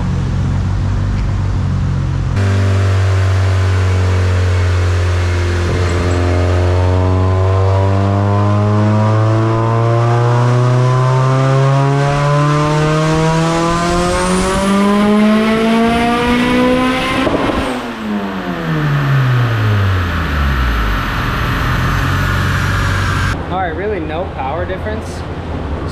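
A Honda EG hatchback with a D2B engine is pulled hard on a dyno through a gear, its engine climbing steadily in pitch with a loud, close roar before the throttle is lifted and the revs fall away. Voices are heard faintly near the end.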